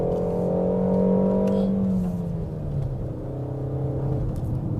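A turbocharged 2022 Peugeot 5008 SUV with 165 horsepower climbs the wet Genting hill road, its engine droning steadily under load, the pitch rising and then dipping slightly as it pulls uphill.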